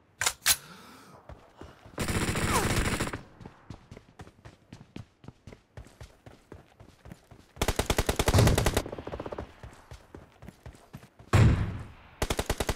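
Gunfire in a PUBG Mobile team deathmatch, long sustained automatic bursts alternating with rapid single shots, close and loud, with quieter gaps of footsteps between volleys.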